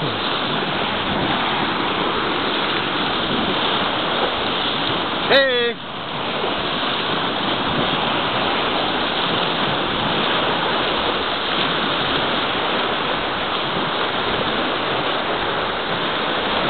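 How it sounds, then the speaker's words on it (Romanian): Continuous wave noise in the premium zone wave pool of the Hajdúszoboszló thermal spa, a steady loud rushing wash of water that goes on throughout, with a brief whistle-like tone near the middle. "Așa sunt valurile de septembrie"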